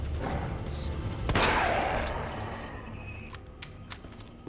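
Gunfire in the video game Resident Evil 2, one sharp loud shot followed by a few fainter clicks and pops.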